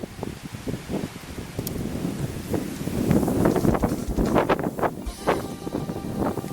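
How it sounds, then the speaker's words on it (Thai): Wind gusting across open rice paddies during an outdoor meal of green papaya salad, buffeting the microphone with a steady, loud, low rumble and scattered rustling that swells in the middle and never drops away. "ลมพัดเลย"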